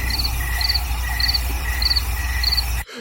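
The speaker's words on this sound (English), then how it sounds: "Crickets." A crickets chirping sound effect, with steady rhythmic trilling pulses repeating about twice a second over a constant insect drone, loud and close, cutting off abruptly at the end.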